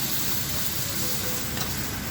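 Tomato mixture with mushrooms being stirred slowly in a cooking pot over a home-style fire, a steady broadband sizzle and scraping hiss running evenly throughout at close range, no voices.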